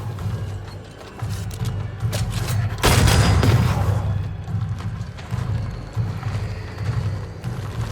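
A corpse enemy opening fire in Banishers: Ghosts of New Eden, a burst of loud gunfire over a rumbling, mechanical game soundscape, with a brief voice heard in the mix.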